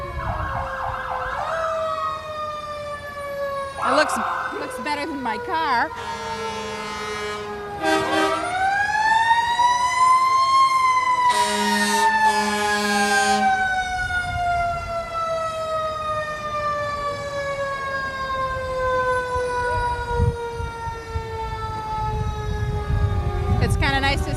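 Several Hudson Fire Department fire engines, from antique to modern, wail their sirens while rolling slowly in a town parade, long rising and falling tones overlapping and sweeping past loudly with horn blasts, and a person briefly speaks over them.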